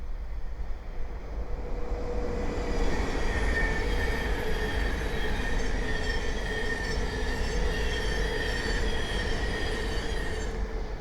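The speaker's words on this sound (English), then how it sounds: "Okay, the next train to pass by is a Thameslink 700 from Cambridge to Brighton." A Thameslink Class 700 electric passenger train rumbles past nearby for a long stretch at Great Wymondley on the East Coast Main Line, wheels humming steadily with a faint high squeal over the top.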